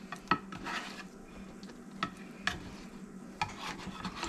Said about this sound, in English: let me just mix this up a little bit. Just want to make sure they're all covered in some sauce